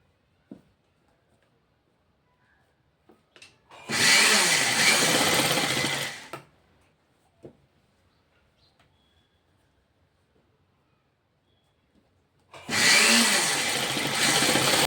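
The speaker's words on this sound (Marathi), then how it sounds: "आता ही आपण अशी टिप मारून घेणार आहोत." A sewing machine stitches a seam on a size 28 princess-cut blouse, running in two steady bursts of about two seconds each, separated by a quiet pause with faint handling noises.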